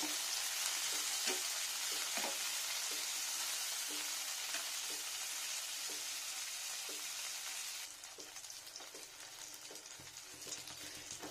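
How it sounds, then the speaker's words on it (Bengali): Loud, continuous sizzling of tomato, eggplant and potato frying in hot oil, with occasional stirring scrapes, easing slightly toward the end. "টমেটো ভাজা, বেগুন ভাজা, আলু ভাজা সব ফ্রাই করে নেওয়া"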